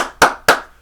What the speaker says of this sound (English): Everyone here in the studio, let's applaud him.